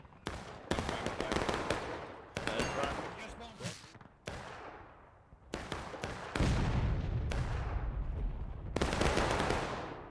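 Repeated booming cannon blasts from the video game War of Rights, each followed by a rumbling decay, with voices talking between and under the shots.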